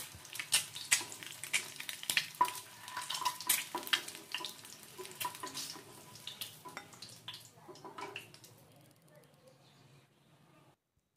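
Eggs frying lightly in a pan while cooking an egg korma, with crackling, spitting sizzles and bursts of pops that fade toward the end, mixed with clinking kitchen sounds.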